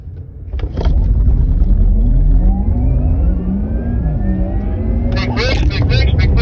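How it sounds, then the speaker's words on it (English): A Porsche accelerates hard on a driving track, its engine note climbing steadily in pitch across several seconds, loud and close, with brief voices and cabin sounds at the start and end. "I'm going to speed up to make a little bit of a gap."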